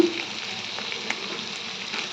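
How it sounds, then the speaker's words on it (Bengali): Potatoes with salt and turmeric frying in a pan for a lentil-fritter curry, a continuous bright hiss of oil sizzling close up with a few faint scrapes. "ভালো করে লাল লাল করে ভেজে দিব।"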